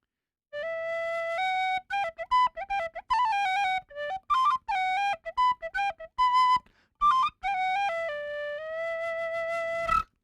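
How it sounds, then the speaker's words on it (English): A penny whistle, also called a tin whistle, played solo up close: a bright, clear melody of quick, separated notes and short runs, ending on a long held tone. "it's also called a tin whistle,"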